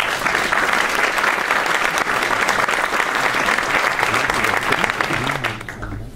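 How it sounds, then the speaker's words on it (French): A conference audience applauds in a sustained, dense burst at a French tech talk on CTOs, the clapping staying loud and even before tapering off abruptly near the end. "Je demande d'applaudir, qui est là."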